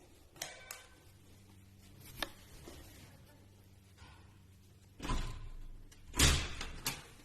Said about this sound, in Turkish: Kapıyı çalıyoruz.